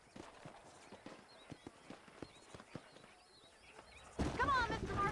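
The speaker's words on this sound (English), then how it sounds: "These are fine horses." Horse hooves in the video game Red Dead Redemption clip-clop at an easy trotting rhythm, fairly quiet with faint birdsong, before a loud neigh or whinny bursts in near the end.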